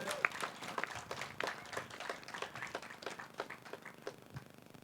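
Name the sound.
round of applause for the couple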